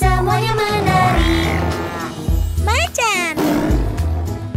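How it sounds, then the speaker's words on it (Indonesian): A tiger roars inside a children's cartoon song, a loud growling roar rising over upbeat music and a sung vocal line. "Macan, rar, rar."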